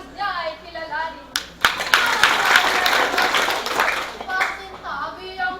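An audience claps in welcome for a poet at a Filipino balagtasan verse debate, a dense burst of applause swelling for about three seconds, with chanted speech before and after it.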